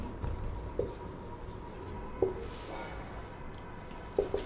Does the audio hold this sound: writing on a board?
yes